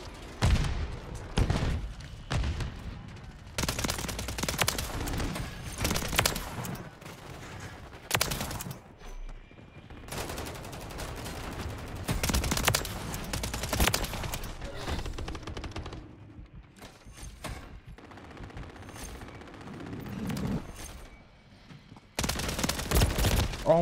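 Gunfire in Call of Duty MW3 with a WSP 9 submachine gun, repeated loud close bursts separated by short gaps, with a voice talking faintly between the shots.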